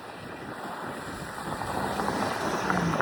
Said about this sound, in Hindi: बहुत क्रेज़ी हवा चल रही है गाइस, एकदम ऐसा भवंडर चल रहा है.